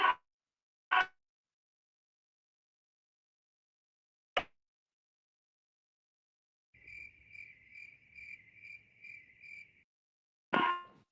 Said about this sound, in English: Who played the cricket sound?